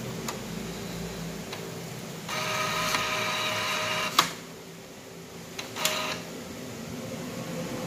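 An Epson L805 inkjet printer with a faulty paper feeder hums steadily after power-on, with mechanical whirring, a few sharp clicks and a louder stretch of motor noise midway.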